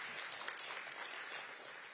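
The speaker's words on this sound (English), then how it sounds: "So give our kids a big round of applause." Faint, distant clapping from an audience at an elementary school dedication ceremony, a soft continuous patter for the kids that thins slightly toward the end.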